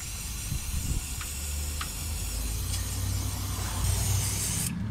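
Freeze spray hissing onto bolts while lowering a 1961 station wagon, a continuous close hiss with faint clicks and a low rumble beneath it.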